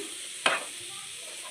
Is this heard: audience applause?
no